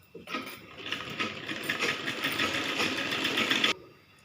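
Sewing machine stitching saree cloth, a steady close whirring run of about three seconds that starts and stops abruptly.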